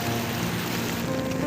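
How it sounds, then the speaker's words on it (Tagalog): Floodwater gushing steadily from a flooded fishpond area, a loud, dense, continuous rushing wash close by with no pauses and no talk. "Bumubulwak."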